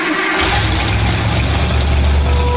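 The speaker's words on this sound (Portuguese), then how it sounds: "Aqui já é uma moto começando a velocidade" A motorcycle engine fires up and revs hard, its loud, steady low rumble running continuously from a brief quieter start, close and with no voices.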